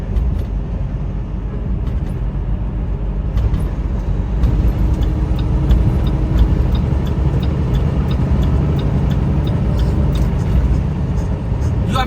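Steady road rumble from a truck cruising through traffic on Highway 401, with a constant low engine and tire drone, occasional brief clicks and a faint high whine, heard close from inside the cab with no talking.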